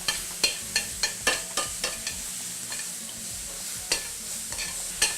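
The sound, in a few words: sautéing diced strawberries and shallots in a pan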